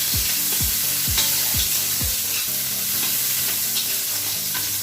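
Onions sautéing in a pan for sarciadong isda, a steady bright sizzle of frying with several soft scraping stirs near the start, close and continuous without talk.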